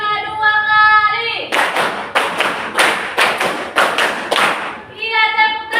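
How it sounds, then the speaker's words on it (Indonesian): In a Grade 8 maths lesson, a class claps a five-beat pattern twice in rhythm, about ten crisp, loud claps in two groups, with a teacher speaking before and after. "Tepuk 5 2 kali."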